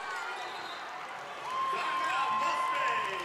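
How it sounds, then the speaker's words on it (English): A college men's basketball crowd in a gym cheering after a made three-pointer, a broad steady roar of voices and whoops that swells partway through, with shoe squeaks faintly mixed in. "And the crowd is loving it."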